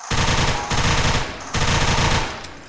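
An automatic weapon in the Unreal Engine game The Hadron Effect fires in two long rapid bursts, loud and close, separated by a brief gap.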